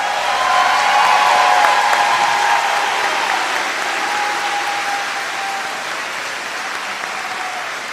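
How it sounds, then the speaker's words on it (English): Applause for students at a senior recognition day ceremony, sustained clapping from a large audience that holds strong and then slowly tapers, with a few faint voices beneath. "Let's give the students a round of applause."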